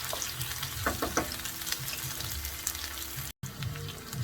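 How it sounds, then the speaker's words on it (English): Onion sautés in a pan until golden, a close steady sizzle with a few stirring knocks early on and a momentary dropout near the end, no voices. "Now that my onion is nicely sautéed and golden brown"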